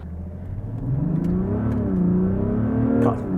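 A 2024 Mazda CX-60 SUV engine revs hard and rises steadily in pitch as it accelerates at full throttle, heard from inside the cabin with a low, continuous hum.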